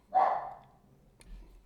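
A single sharp dog bark rings out nearby, trailing off quickly, followed by a faint click and quiet.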